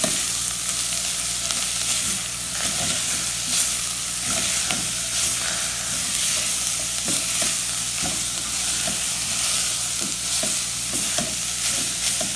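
Farofa made with Tuscan sausage, carrot and parsley is stirred in a hot pan. A constant loud sizzle runs under repeated scraping strokes of a spoon against the pan in a steady rhythm, with no talking.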